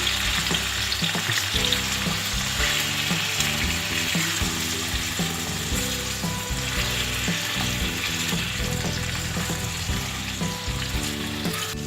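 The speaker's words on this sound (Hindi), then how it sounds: "अब इसमें अरवी डाल के थोड़ी फ्राई करनी है।" Pieces of arvi (taro root) frying in a little oil in a frying pan, producing a loud, dense, unbroken sizzle and crackle with occasional stirring sounds. A constant low hum sits beneath it, and there is no speech.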